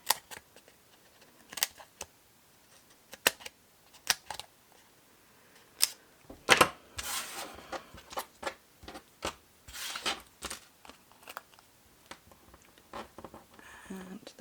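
Scissors trim around paper for a handmade milk carton gift box, giving a quiet, close series of sharp snips and clicks spaced irregularly, with brief pauses between cuts.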